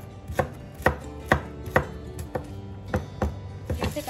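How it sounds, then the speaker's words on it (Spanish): Pork chops and onion being chopped into small cubes with a knife, about eight crisp, evenly spaced chops close by, with no talking. "a picar en cuadritos. Nuestras chuletas, nuestra cebolla, para ponerle a nuestras enfrijoladas."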